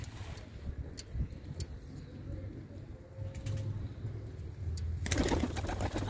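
Pigeons kept at a loft coo softly and repeatedly against a low background hum and faint passing traffic, with some clicks and shuffling.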